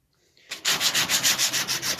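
Wood sanded down by hand, with rapid rhythmic back-and-forth rubbing strokes starting after a brief quiet lead-in, close and loud, about eight strokes in quick succession.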